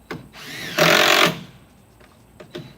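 A rattle gun (impact wrench) drives screws into a horsefly trap with a loud, brief hammering burst lasting about half a second, framed by softer spin-up whirring and small clicks nearby.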